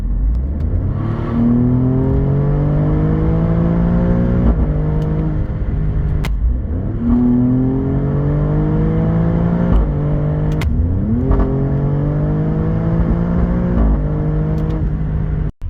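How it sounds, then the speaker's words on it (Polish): A 2023 Alfa Romeo Stelvio Quadrifoglio engine revs hard and accelerates, with loud rising sweeps broken by quick gear changes, each shift dropping the pitch before it climbs again, sustained and close throughout. "Stelvio super szybko reaguje na wciśnięcie gazu i bardzo szybko redukuje"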